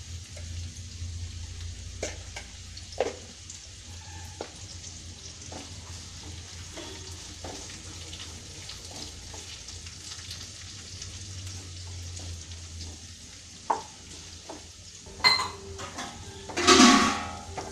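Onion sautéing with salt in a pan for egg curry, a soft steady sizzle under scattered clinks and scrapes of a metal spoon against the pan, with a louder burst of stirring at the end; no one speaks.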